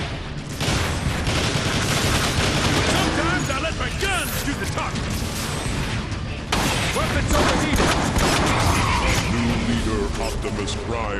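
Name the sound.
gunfire from a Transformers video game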